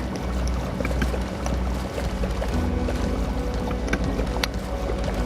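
Oars splash and creak as a small boat is rowed across water in a phone video game, a steady close wash of water with soft rhythmic knocks and no talk.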